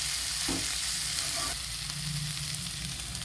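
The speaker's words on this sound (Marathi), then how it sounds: "गाजर आणि स्वीट कॉर्न दोघे घालून घेऊया आणि थोडंसं याला शेकून घेऊया" Carrot and sweet corn sautéing in a pan make a steady close sizzle with a couple of stirring scrapes and a soft knock, continuous and fairly even, without speech.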